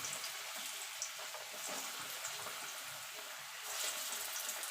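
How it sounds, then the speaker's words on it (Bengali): Jackfruit koftas frying in hot oil in a kadai, a steady, fairly quiet broadband sizzle that stays even throughout, with no voices. "আমি দুবারে ভাজবো, এপিট ওপিট করে লাল লাল করে ভেজে নেব"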